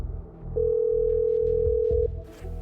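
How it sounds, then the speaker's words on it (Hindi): A telephone rings in a dramatized comic Hindi audio story, one steady electronic tone held for about one and a half seconds, loud and close, with faint background noise around it. "फोन बजने लगा था"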